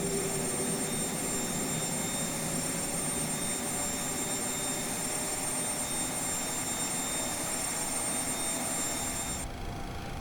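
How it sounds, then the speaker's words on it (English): A Boeing 737-300 jet engine in X-Plane 11 is heard from outside the aircraft as a steady, loud broadband roar with a faint high whine, cutting off abruptly at the end. "We'll quickly jump to the outside so you can hear it from the outside of the aircraft."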